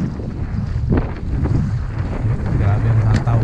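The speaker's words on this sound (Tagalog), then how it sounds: "Medyo mahangin mga igan, ewan ko kung anong itsura nung anong pandinig nyo sa audio natin" Wind buffets the microphone in low, uneven rumbles outdoors on a catfish fishing trip, with a steady engine-like hum underneath.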